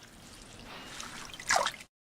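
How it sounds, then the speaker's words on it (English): Spinach leaves being washed in a bowl of water give a soft trickle and light drips close by, rising to a brief splashy burst before cutting off abruptly, with no voices. "Wash the spinach in a bowl of water."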